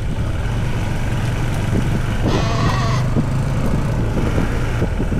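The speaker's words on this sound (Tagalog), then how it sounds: "Yan ang una kong kambing eh" A single goat bleat cuts through a steady low engine hum, lasting about a second amid rustling background noise.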